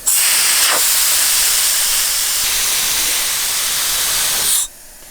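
A loud, steady hiss of air rushes out through a shared valve deflating all four off-road tires on a Toyota, continuing unbroken for several seconds before cutting off abruptly into quiet.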